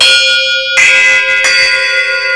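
A bell cymbal struck with a hard, unpadded mallet gives a harsh, edgy metallic tone, with two clear strikes whose bright ringing overtones hold and overlap.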